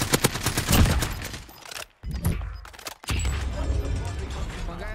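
Gunfire in Cold War Warzone video game crackles in quick, close bursts of automatic shots, broken by a couple of abrupt silences, with players talking over it.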